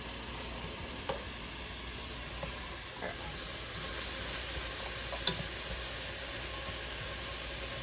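Onions and garlic cooking down in a pan give a steady, soft sizzle, with a few faint clicks and taps scattered through it and no voices.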